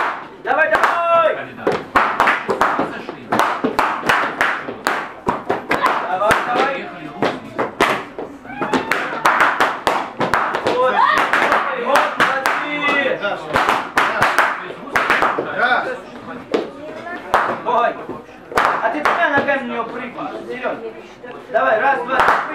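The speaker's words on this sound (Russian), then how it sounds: "Хлопаем ногами шарики." Rapid, sharp pops and thuds of balloons being stomped burst out in irregular clusters at a children's birthday party in a cafe, mixed with stomping and excited children's voices talking and shouting throughout.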